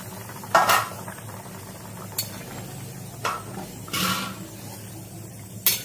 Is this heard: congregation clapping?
no